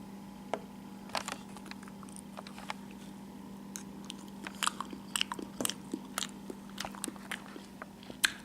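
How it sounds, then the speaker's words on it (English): A fork takes a bite of stew cooked in a food jar thermos, followed by soft crunchy chewing and small clicks, close and quiet in a calm outdoor camping setting. "I'm gonna take a bite of the stew to see how good it tastes."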